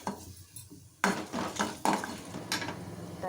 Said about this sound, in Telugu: ఇది కొంచెం వేగనివ్వండి